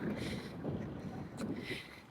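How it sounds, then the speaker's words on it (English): Gusts of wind buffet the microphone outdoors near a hotel in Dublin, producing a low, rumbling roar that rises and falls in uneven bursts. "I hope it's not windy because it's windy right now"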